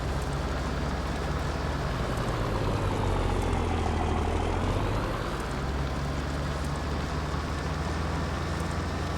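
A custom show truck in Farming Simulator 19 drives along with a steady heavy engine drone. The pitch rises and falls slightly partway through, and no talk is heard.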